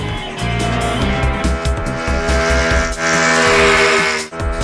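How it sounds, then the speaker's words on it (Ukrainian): Cartoon go-karts race with buzzing engines that rise and fall in pitch, loud and busy, with quick passes and a brief dip near the end, free of speech. "Змагаймося в картингу."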